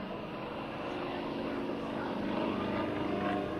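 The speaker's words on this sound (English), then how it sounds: "The three-leaf clover by Mr. Drew Hurley and his Yak 55" A Yak 55 aerobatic propeller plane flies a display at an air show, its engine a steady, loud drone with a buzzing propeller tone that swells slightly as it passes.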